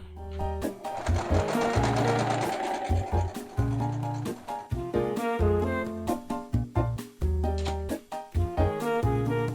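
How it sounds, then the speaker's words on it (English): Close sewing machine basting a vintage swimsuit mock-up, running in quick stitching bursts with sharp stops and starts, mechanical clatter and brief pauses between runs. "Baste things into place."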